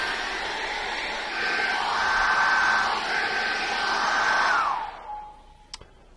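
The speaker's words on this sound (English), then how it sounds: "I'm going to dry that off really well again with a hairdryer" A handheld hairdryer blows steadily over acrylic paint on a realistic eye painting, a loud close continuous whoosh with a faint high whine, then switches off and winds down near the end, leaving quiet clicks.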